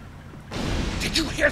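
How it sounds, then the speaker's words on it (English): Explosions in the Star Trek Online video game, a broad rumbling burst starting abruptly and sustained for about a second, with brief sharper crackles on top, loud and close. "Did you hear those explosions?"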